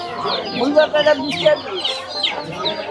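Chickens and chicks cluck and cheep busily at a traditional rural village market stall selling broilers, ducklings and quail, near and lively, with a voice talking over the birds.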